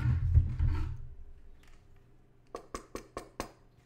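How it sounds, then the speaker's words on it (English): Five quick knuckle knocks ring out on a steel American World War II helmet, each a crisp metallic tap with a short ringing tone, evenly spaced and fairly close, after a stretch of low background rumble. "that's the sound of me knocking on the helmet."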